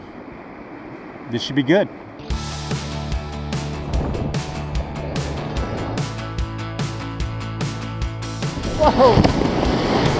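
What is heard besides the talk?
whitewater rapid on a California river while kayaking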